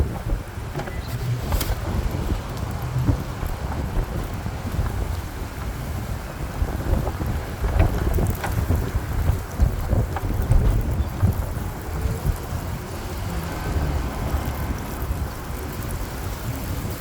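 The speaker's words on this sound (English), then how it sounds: "that wind is strong." Strong wind buffeting outdoors, a loud, continuous low roaring rumble with gusty surges and scattered thuds, close to the microphone, with no talk.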